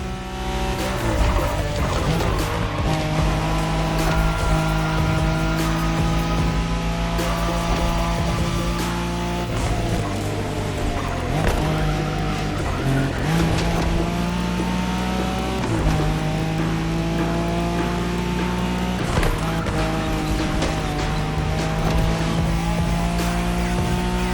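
A Nissan Skyline races in The Crew Motorfest along the Tokyo Bayshore Wangan route, its engine droning loud and steady throughout with rising and shifting revs and occasional tire squeal.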